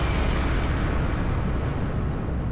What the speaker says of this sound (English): we both would blow ourselves to smithereens in a gigantic nuclear explosion